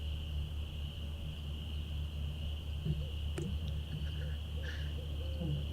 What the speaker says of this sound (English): Sounds like frogs to you, not just crickets.